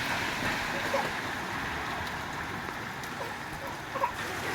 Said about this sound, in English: so we are seeing the beautiful raining day scenario from here